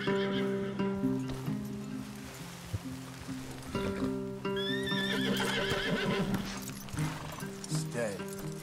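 Horses neighing and hooves clip-clopping in Red Dead Redemption 2, with whinnies, hoof beats and soft rain over a steady musical background, while voices speak at intervals.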